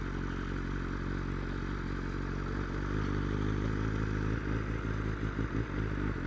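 A BMW M1000R motorcycle rolling slowly along a rough dirt boundary track, its engine a steady low rumble close by, with clattering and scraping from the uneven surface growing more frequent toward the end.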